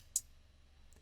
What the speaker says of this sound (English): As for the hi-hat,